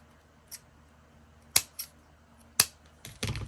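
Scissors trim the end of a tie on a handmade journal with a few sharp, close snips spaced unevenly, ending in a quick burst of cutting, with no speech.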